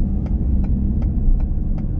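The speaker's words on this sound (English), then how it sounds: "I'm gonna make a U-turn." Inside a 2019 Ford F450 truck making a U-turn, a steady low engine rumble carries on with faint regular ticks, likely a turn signal, clicking over it.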